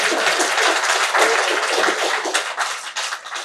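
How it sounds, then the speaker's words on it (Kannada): An audience at a Bengaluru talk show event bursts into loud, dense applause, a continuous wash of many hands clapping close and full for a few seconds. "ನೀವು ಭಾರಿ ಜೋರಾಗಿ ಚಪ್ಪಾಳೆ ತಟ್ಟಬೇಕು"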